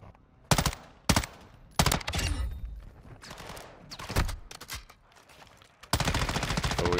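Gunfire in Call of Duty: Modern Warfare II comes in sharp, loud bursts and single cracks, separated by short lulls, ending in a sustained rattling volley.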